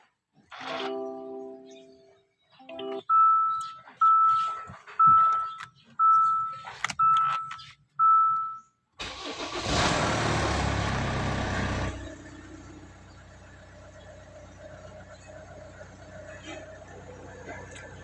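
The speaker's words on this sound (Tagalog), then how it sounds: "Ang problema lang po nito, maingay yung kanyang makina." A Hyundai Santa Fe with a noisy engine: a few quiet clicks and chime tones, then the engine cranks and catches with a loud burst before settling into a steady, fairly loud idle.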